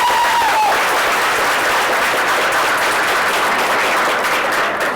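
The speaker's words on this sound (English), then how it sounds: "girls, let's give our parents a round of applause" A dense, loud round of applause for parents at a high school badminton state trophy celebration, with steady clapping from many hands that holds throughout.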